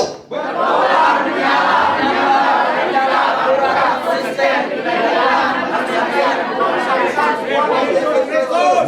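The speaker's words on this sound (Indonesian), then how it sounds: "Itu ya yel-yel kita ya" Large church congregation shouting a group chant together after a countdown, a dense sustained roar of many voices filling the whole stretch at steady high loudness.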